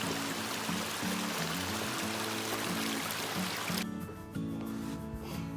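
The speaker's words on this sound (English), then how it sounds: "Almost every one of the little valleys that we come across has a stream like this." Mountain stream flowing through a small valley on the Appalachian Trail near Wayah Bald, a steady, loud broadband rush of water that continues alone throughout.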